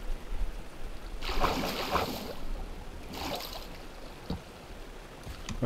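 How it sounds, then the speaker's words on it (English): Rushing water of a waterfall in a Minecraft-style Nether level, a broad steady wash with swelling bursts of splashing that rise and fade, heard alone without talk. "Okay, there's another waterfall."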